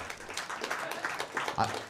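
Comedy club audience clapping in response to a stand-up comic, a moderate, steady patter of applause, fairly faint and diffuse.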